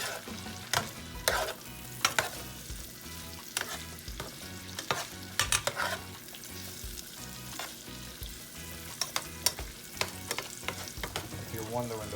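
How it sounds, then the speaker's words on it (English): Food sautéing in a pan for a Jamaican-style coconut curry salmon dish, with steady sizzling and repeated sharp scraping stirs at irregular intervals, close and alone without talk. "You just wanna like saute it a bit."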